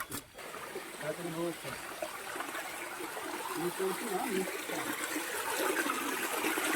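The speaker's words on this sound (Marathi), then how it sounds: "धबधब्याचं पाणी आहे" Waterfall water flows at night near Parpoli village, a steady trickling, splashing rush that swells slightly toward the end, with someone talking over it early on.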